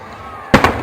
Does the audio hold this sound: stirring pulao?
no